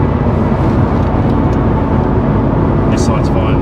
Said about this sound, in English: Getting a noise from this door sill. Got like a wind noise.